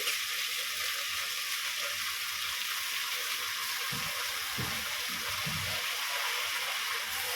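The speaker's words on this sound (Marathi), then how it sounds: "तांदूळ आपल्याला छान परतून घ्यायचा आहे" Rice is sautéed with cooked vegetables and garam masala for a fresh green pea pulao, giving a steady hiss in the pan. Soft low scraping strokes come partway through, close by and at a moderate level, with no voices.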